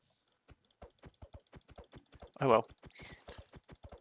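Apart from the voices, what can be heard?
computer clicking while playing Minecraft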